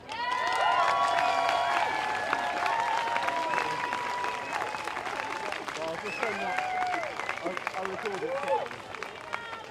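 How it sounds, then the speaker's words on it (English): Outdoor crowd at an Extinction Rebellion protest festival claps and cheers loudly and steadily for about ten seconds, with scattered shouts and voices rising over the dense applause. "Can we give a round of applause for Marvina?"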